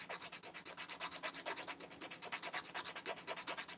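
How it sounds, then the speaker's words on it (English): Rapid, steady back-and-forth rasping of a nail file trimming the excess off FMG Glimmer gel nail stickers, close and clear, about eight strokes per second with no talking. "Just going to file down the excess."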